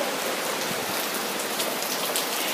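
Steady heavy rain falls at Disney, a dense even hiss of drops on surfaces, moderately loud and unbroken, with no voices.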